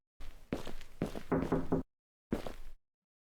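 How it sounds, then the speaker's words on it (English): Knocking on a door in a horror video game, two separate bursts of several raps each with a pause between, fairly close and alone without talk. "the knocking didn't come from this door,"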